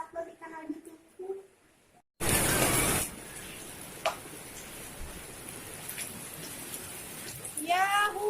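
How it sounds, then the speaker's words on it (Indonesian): Rain falls steadily in a broad, even hiss that starts abruptly after a quiet opening, with occasional drips and a loud burst as it begins; a voice is briefly heard near the end. "Ya hujan"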